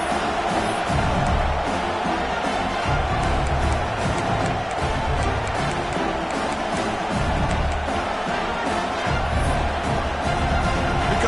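Home crowd cheering in a Madden football video game, a steady roar of stadium crowd noise with scattered shouts, sustained and loud throughout.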